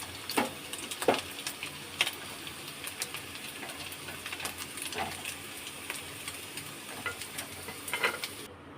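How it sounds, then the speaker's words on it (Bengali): Prawns frying in oil in a pan for a Bengali kochu loti dish, a soft steady sizzle with crisp scattered pops and a few stirring clatters, fairly quiet and with no talking. "মোটামুটি চিংড়ি মাছটা অলমোস্ট ভাজা হয়ে গেছে"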